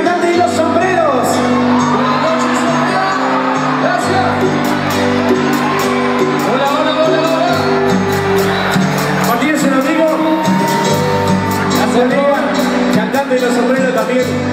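A crowd at the Fiesta Nacional del Inmigrante 2016 cheers loudly for a singer, with steady shouts and whoops rising over sustained tonal sound for the whole stretch.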